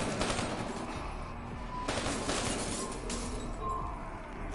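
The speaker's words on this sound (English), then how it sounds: "Hey, my machine gun" Machine gun fire in the Call of Duty 3 video game, a dense, continuous burst of rapid shots with heavier bursts layered in. It sounds loud and close and runs through the whole stretch with no pause.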